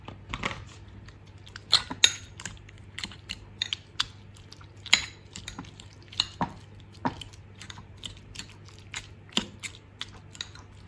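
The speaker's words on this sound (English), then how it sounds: "tip that into a bigger bowl and give it a good mash" Food being mashed in a bowl with a kitchen utensil, giving a series of soft, irregular thuds and scraping clinks spaced a second or so apart, fairly close and quiet, with no talking.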